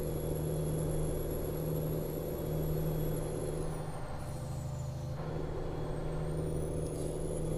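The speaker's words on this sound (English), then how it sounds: "this truck makes some nice noises, to be honest." A Kenworth T908 truck engine in American Truck Simulator drones steadily and close throughout, a low constant hum with a high turbo-like whistle that dips midway and rises again, with no talk.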